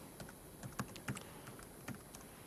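Keys on a computer keyboard are struck in quick, uneven clicks, close and fairly quiet, with no voices.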